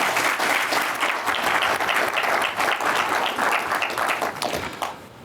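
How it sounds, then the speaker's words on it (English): An audience applauds at a national security talk, a dense and sustained burst of clapping that fades out toward the end. "So everybody please a round of applause for General Michael Hayden."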